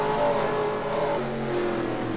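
Race cars at Martinsville in a NASCAR racing video game, a steady engine drone with shifting harmonic tones as several cars run together close by, continuous throughout.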